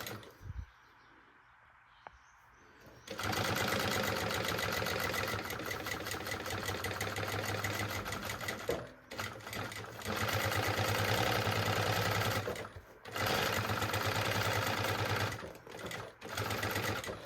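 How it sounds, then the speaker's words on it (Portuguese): A sewing machine stitches the lining of a maternity bag in long, loud, close runs of rapid mechanical whirring, broken by short pauses. Before the stitching starts there is a quiet stretch with faint background sound. "a gente vai começar a fazer uma costurinha de segurança aqui"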